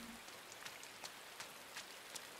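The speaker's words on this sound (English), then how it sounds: "You cannot have these kind of games without having some rain" Rain falls in the video game Inside as a quiet, constant hiss, with scattered soft drops tapping through it.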